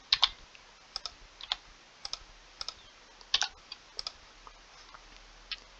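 Steady, uneven clicking of computer keys while values are entered into a spreadsheet, with sharp isolated taps and short bursts, close and fairly quiet with no talking.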